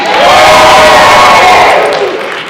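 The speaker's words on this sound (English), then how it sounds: "you need to cheer every contestant" Loud crowd cheering and whooping at a cosplay contest at Wild Wild West Con 2024, a dense sustained roar of many voices that swells and then eases slightly toward the end, with no distinct speech.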